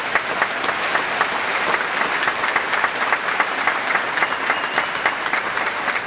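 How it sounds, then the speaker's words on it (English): A large crowd at a high school graduation ceremony claps steadily and loudly. The dense, even applause holds without a break, with no speech over it. "Let's have a round of applause for Dennis Carlson Ryu."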